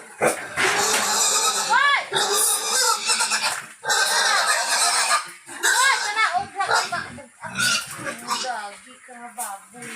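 Pigs at feeding time on a small farm grunt and squeal in bursts, with a dog-like whimpering quality, loud and close, while people talk over the commotion.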